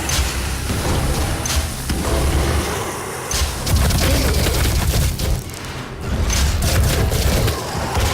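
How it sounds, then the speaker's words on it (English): A weapon fires continuously in a Doom game, making a loud, dense, rattling burst of gunfire that runs nearly nonstop with brief dips between long volleys, no talking. "It's a weapon that is firing continuously"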